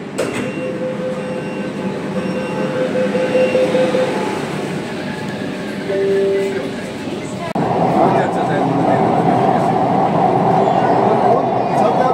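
A Kolkata Metro train pulls out of Howrah station on the line running under the Ganges, with a loud, steady rumble and rising motor whine heard from inside the car, and people talking throughout.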